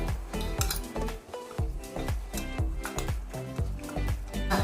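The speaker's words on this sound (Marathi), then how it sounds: "यामध्ये आपण चॉकलेट पावडर टाकणार आहोत आणि मिक्स करून घेऊ" A spoon stirs chocolate powder into a mithai mixture in a metal pan, scraping and clinking in a steady rhythm of repeated strokes, close and clear.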